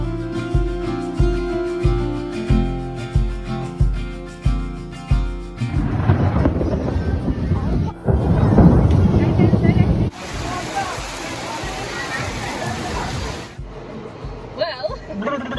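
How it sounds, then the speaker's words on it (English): A massive thunderstorm breaks over an outdoor market in Palmerston, Northern Territory, with rolling thunder, a dense roar of rain and gusty wind buffeting the microphone, following a rhythmic thumping beat at the start. "Massive thunderstorm just came through and we just ran to the car."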